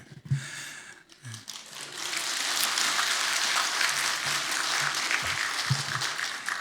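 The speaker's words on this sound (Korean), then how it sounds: "설교하기 전에 이렇게 박수 받아보긴 처음입니다." A church congregation applauds before a sermon, a few scattered claps at first, then sustained moderate clapping from the crowd that fades slightly at the end, with no talk.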